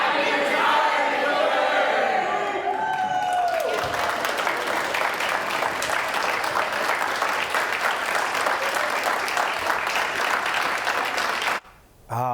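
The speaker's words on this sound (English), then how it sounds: "keep the applause going" Newsroom staff at NBC 6 applaud and cheer for Willard Shepard, a sustained burst of dense clapping with a few voices mixed in over the first seconds, continuing steadily before cutting off abruptly near the end.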